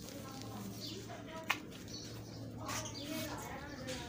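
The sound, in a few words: pigeons cooing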